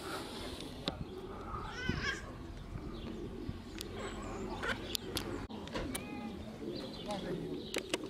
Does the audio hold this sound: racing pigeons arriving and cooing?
yes